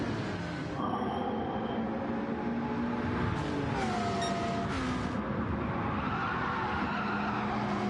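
Race car tyres squeal at Tsukuba Circuit as an ERL electric car pack battles for position, a thin rising and falling screech over steady car noise, moderately distant.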